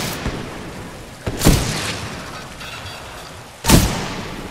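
Semi-auto sniper rifle in the shooter video game Titanfall 2, firing two loud, sharp cracks a couple of seconds apart, each with a brief ringing tail, plus a fainter shot at the start.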